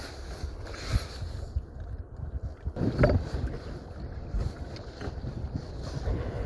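A sailing canoe moving through calm coastal water in wind, with steady wind buffeting and soft water sounds, no talking.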